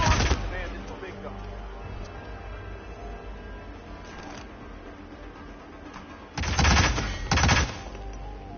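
Heavy gunfire from a big gun in the Hitman video game: a loud opening blast, then a long stretch of low rumbling, and two more loud bursts near the end.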